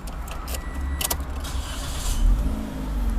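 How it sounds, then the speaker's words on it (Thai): A Toyota car starting up in close range, with a few short clicks and a brief whine before a low engine rumble settles in and holds steady, rising slightly toward the end. "อ่ะเรามาติดเครื่องกัน"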